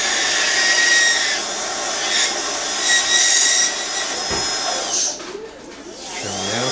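A high-pitched dental handpiece whines steadily while trimming a temporary bridge, close and loud, with small shifts in pitch as it cuts, then dropping off near the end.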